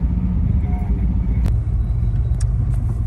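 Low, steady rumble of cars idling and creeping in heavy traffic at the Mall of Asia in Manila, with a brief sharp click and faint squeaks over the continuous engine drone.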